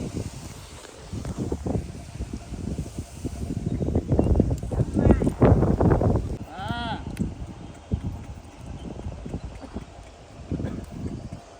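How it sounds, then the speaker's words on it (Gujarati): A mare being started in training on a farm moves with irregular hoof thuds and shuffling, swelling louder in the middle, while people talk nearby. "હવે ટ્રેનિંગ શરૂ કરવાની છે આ ઘોડીની"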